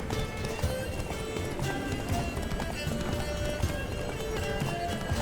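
The horse Roach gallops in The Witcher 3, with rapid, continuous hoofbeats over a dense game soundscape and music, steady and close throughout, with occasional snorts.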